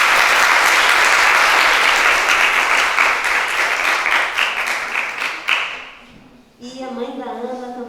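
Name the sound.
applause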